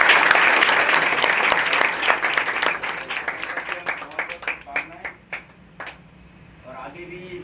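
Loud, dense audience applause at a student selection celebration fades into scattered individual claps, with a few voices coming through near the end.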